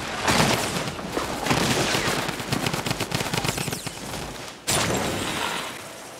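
Loud gunfire in a Fortnite squad match: dense, rapid bursts of shots that continue almost without a break, stop briefly, then start again with another close, sharp volley.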